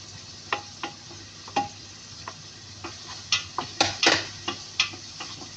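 Onion, garlic and whole peppercorns stirred in a hot pan, a steady sizzle broken by irregular sharp scraping ticks and clinks of the utensil against the metal, close and fairly quiet with no talking.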